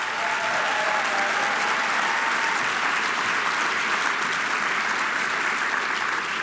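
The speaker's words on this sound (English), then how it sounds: "Let's give them another round of applause." A large audience at a United Teachers Los Angeles union event applauds steadily, a dense and continuous wash of clapping that neither builds nor fades.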